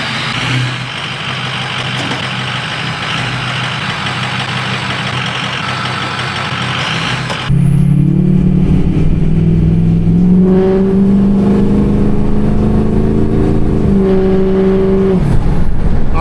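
Engine of a 6.0 truck towing a trailer, a loud, steady diesel rumble that grows heavier midway as the truck moves off, with rising and falling engine tones as it gathers speed and shifts.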